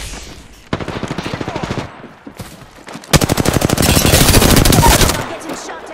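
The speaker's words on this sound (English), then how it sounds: "I'm getting shot at" Video game automatic gunfire crackles in two long, loud, rapid bursts, separated by a brief lull. The second burst is denser and sustained.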